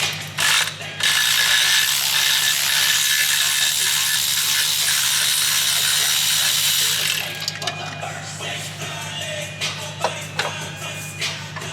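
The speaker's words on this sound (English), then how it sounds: "Aslan's about to pull out the turbo." A ratchet wrench clicks rapidly and steadily while a turbo is pulled out of a Z car's engine bay. The dense ratcheting runs for about seven seconds, then gives way to sparser tool clinks and handling noises.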